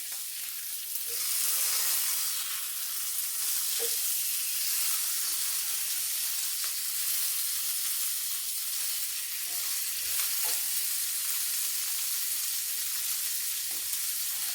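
Flour gravy sizzling and frying in a pan at a home breakfast stove, a continuous bright hiss with occasional soft scrapes of a utensil stirring it, close and steady throughout.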